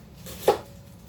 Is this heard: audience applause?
no